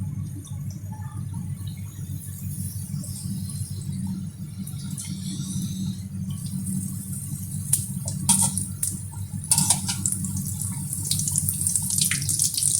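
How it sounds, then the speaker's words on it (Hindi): Potato samosas fry in hot oil over a medium flame, giving off a steady bubbling hiss with scattered sharper crackles and pops near the end. "हमें मीडियम फ्लेम पे करना समोसे को फ्राई करना है।"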